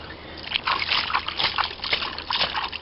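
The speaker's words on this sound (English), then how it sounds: "When I do, the water will kind of boil out of here because it's coming, see, like that, and I just let it rinse out" Water gushes and sloshes out of the plug of an above-ground pool's filter housing in a steady, splashy flow with bubbly surges, close and moderately loud.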